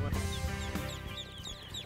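Young ducklings being let into a newly built coop, with dense continuous peeping and clucking-like calls from a crowd of birds throughout, close and steady.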